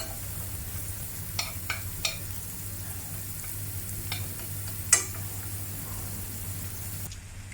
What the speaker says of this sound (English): Saute the chopped garlic with oil.